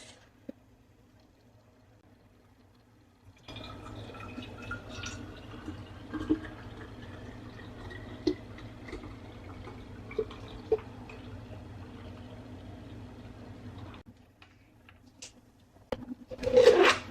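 Thick liquid pumpkin pie filling is poured from one container into another, a steady low sloshing pour with a few soft drips that runs for about ten seconds before stopping.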